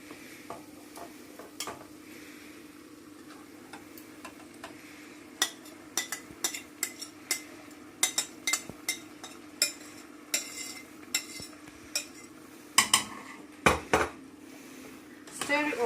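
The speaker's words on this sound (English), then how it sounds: "Stir it all in. Break the fish up, not to the point of mush." Pilchard fish being stirred into potato curry in a pot: a spoon scrapes and clinks against the metal in irregular bursts over a faint simmering sizzle, close by, growing busier toward the end.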